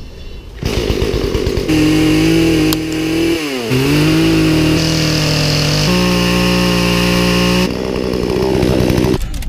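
A loud chainsaw engine runs steadily up close, its pitch dipping and rising as the throttle changes, with brief revs at start and end.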